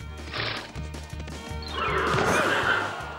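A horse bolts when its rider's heels dig into its belly, with a neigh and hoofbeats followed by a loud crash, all over a steady musical backing.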